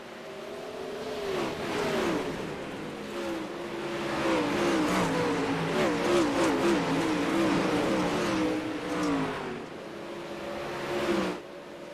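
Sprint cars in iRacing's Outlaw 360 Sprint Series roar off at the race start at Cedar Lake, a loud sustained engine blare with rising and falling revs from the pack, with no talk.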